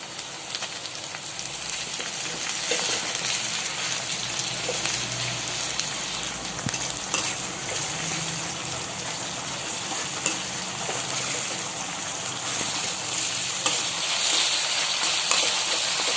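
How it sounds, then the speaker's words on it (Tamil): Ginger garlic paste sautéing in a pan with cloves and curry leaves for pakoda thokku gives a steady, dense sizzle that holds evenly for the whole stretch, with no voices. "இஞ்சி பூண்டு வாசனை வந்து நல்லா போகிற வரைக்கும் நம்ம அதை நல்லா வதக்கிக்கலாம்"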